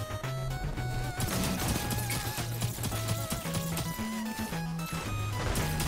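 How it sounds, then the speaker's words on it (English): Rapid gunfire from a Destiny 2 PvP match rattles on steadily and loud, layered over a busy game soundtrack. "Here comes more shots."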